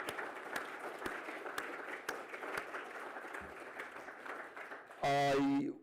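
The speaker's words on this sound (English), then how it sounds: "a round of applause for those people, ladies and gentlemen" A conference audience applauds the technical crew at an IT forum, a steady wash of clapping from a crowd with sharp individual claps standing out, ending in a sudden loud burst of a different sound.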